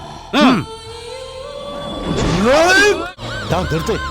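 A siren wails in rapid rising and falling sweeps, loud and wavering, broken by a brief drop before the yelping resumes.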